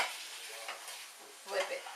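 Salmon searing in a pan over high heat gives a steady broadband sizzle, swelling briefly near the end with a faint stirring or scraping touch.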